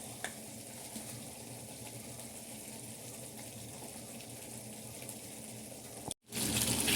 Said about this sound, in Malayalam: നമുക്ക് ഈ പുളിവെള്ളം ഒഴിച്ചു ആവശ്യത്തിനുള്ള ഉപ്പിട്ട് കൊടുക്കാം.